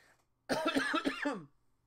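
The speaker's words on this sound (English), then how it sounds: "I've just been coughing" A single burst of harsh coughing, loud and close, lasting about a second with several rough hacks in quick succession before the sound drops away to quiet.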